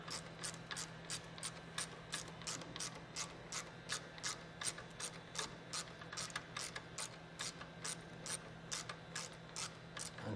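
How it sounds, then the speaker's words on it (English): A ratchet wrench tightens a 7/16 bolt on an oil cooler fan install for a 2017-up Harley touring bike, giving a long run of quick, even clicks, faint and close, with no speech. "so now I'm gonna have to tighten the 7/16 all the way"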